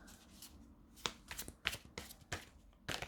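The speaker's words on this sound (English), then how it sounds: "This always happens when I record me shuffling." Tarot cards are shuffled by hand in a series of quick riffling bursts, close and fairly soft, with short pauses between each shuffle.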